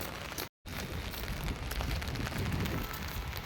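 Steady rain falls in Jammu near a school, a dense, even hiss that fills the whole stretch with only a brief dropout.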